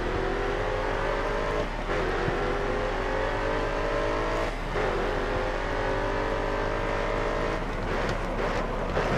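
Race car engine in the GRID Autosport video game, loud and continuous, its pitch climbing steadily then dropping abruptly at gear shifts several times, under constant road and wind roar.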